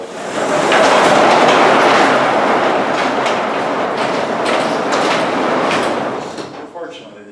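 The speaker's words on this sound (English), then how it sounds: "I'll just open one of the doors to just get some fresh air in here." A mechanical door at a weather station rolls open with a loud, continuous rattling rumble that swells, holds steady with clattering ticks, and fades out near the end.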